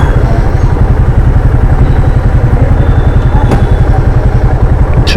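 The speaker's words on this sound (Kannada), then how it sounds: "ಅಣ್ಣ ಅವರು ಗಾಡಿ ತೆಗಿತಿದ್ದಾರೆ, ನಮಗೆ ಪಾರ್ಕಿಂಗ್ ಸಿಗುತ್ತೆ ಅನ್ಕೋತೀನಿ." A vehicle engine runs steadily with a rapid, throbbing idle as it is moved out of a crowded bakery parking area, loud and close, with faint voices in the background.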